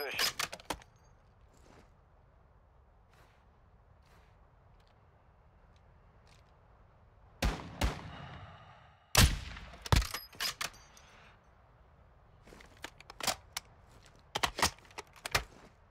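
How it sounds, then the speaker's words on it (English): Gunfire in the video game Call of Duty DMZ: sharp, fairly distant shots in short clusters over a quiet game background, with a few isolated cracks and soft clicks between them. "So I heard gunfire to my right."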